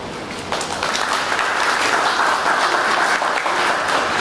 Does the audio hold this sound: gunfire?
no